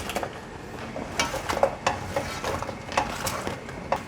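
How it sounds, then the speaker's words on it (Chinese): Fried oyster mushrooms are tossed in a thick vegan cream sauce, with soft scraping and clinks of a spatula against the pan at an irregular rhythm, close and fairly quiet, with no voices. "把刚刚炸好的秀珍菇放进来翻炒"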